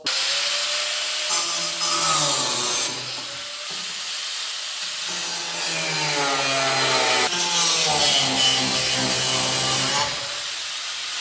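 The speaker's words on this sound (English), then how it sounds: "And then we'll go ahead and cut off these blower bolts" Supercharger blower bolts being cut off on a car, with a steady, close grinding-saw tone that runs through the whole stretch, rising and falling in pitch as the blade bites into the metal, with no talk.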